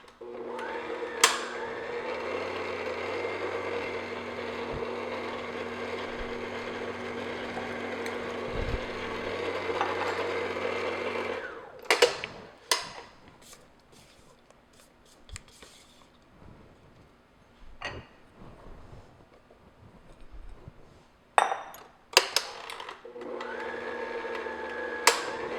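An electric mixer blends flour into coconut cupcake batter with a steady whirring motor hum for about eleven seconds, then stops, followed by scattered clinks and taps of bowl and beaters before it briefly starts up again.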